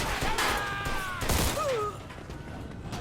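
Rapid gunfire crackles through a shootout in the video game Mafia II Definitive Edition, dense bursts of loud shots layered over whistling tonal effects, easing slightly toward the end.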